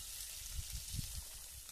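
Ingredients for amti, a Marathi lentil curry, frying in a pan, giving a steady close hiss of sizzling oil with faint crackles and soft bubbling underneath.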